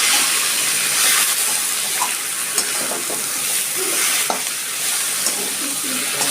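Water lily flowers frying in a pan with a little salt and turmeric, a soft, steady sizzle with faint stirring scrapes and a few small clicks from the utensils.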